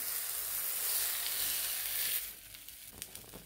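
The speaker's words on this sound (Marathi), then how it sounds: "आता आपण हे थालीपीठ भाजून घेऊया." Cucumber thalipeeth frying in oil on a pan gives a steady bright sizzle that fades to quieter, sparse crackles and pops partway through.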